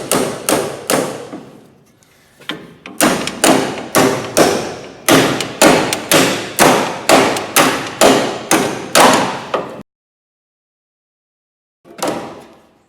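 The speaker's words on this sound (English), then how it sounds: "And then you could beat on the vice grip." Metal hammer blows on a vice grip clamped to a bolt during a Mazda RX7 FD V8 rebuild, a close, loud series of sharp ringing strikes in steady bursts, a brief pause, then more strikes and a single late hit.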